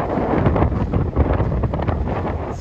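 Strong wind buffets the microphone on a windy Caspian Sea beach at Buzovna and Novkhany near Baku, a loud continuous gusting roar with uneven surges and no voices.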